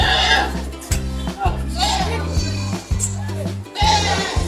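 Goats bleat repeatedly at a busy outdoor goat market, several drawn-out, wavering calls close by, with people talking over and between them.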